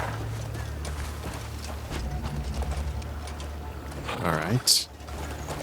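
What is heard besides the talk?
horse hooves in the video game Crimson Desert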